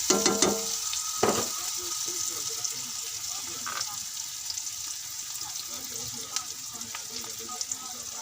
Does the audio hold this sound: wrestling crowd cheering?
no